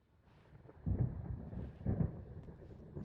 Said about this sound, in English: There's a storm coming. Oh, what a storm.